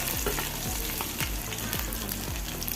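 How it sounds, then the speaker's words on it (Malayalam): Chopped garlic sizzles in hot oil with popping mustard seeds, a steady close frying hiss broken by regular stirring scrapes. "കടുക് പൊട്ടിക്കഴിയുമ്പോൾ ഒരു ചുള വെളുത്തുള്ളി അരിഞ്ഞു വെച്ചതാണ് ചേർത്ത് കൊടുക്കുക"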